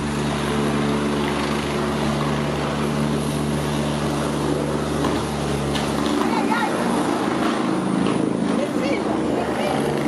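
A helicopter on a rescue exercise drones with a constant, loud rotor and engine hum throughout, while a voice talks over it.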